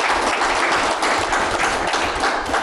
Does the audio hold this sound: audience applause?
yes